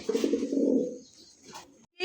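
Pigeons at a bird market selling fancy Lahori pigeons give a loud, close cooing call for about a second, followed by quieter rustling and a short final sound.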